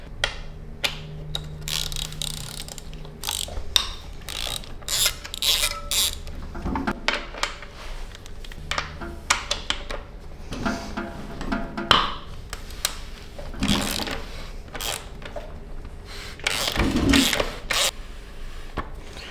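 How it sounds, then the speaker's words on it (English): A threaded bolt on the front forks of a Beta Xtrainer 300 being unscrewed with a ratcheting tool, close, in irregular bursts of clicking and scraping, with occasional louder metallic knocks. "this is basically just like a threaded bolt, and all I'm doing is just unscrewing it"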